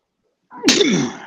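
A single close, loud human sneeze with a brief intake before the sharp burst, then a trailing voiced release, alone in a quiet room.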